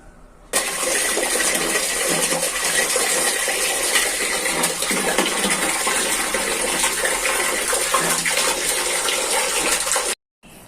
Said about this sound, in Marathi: इथून ह्या नळाला आपल्याला गरम पाणी येईल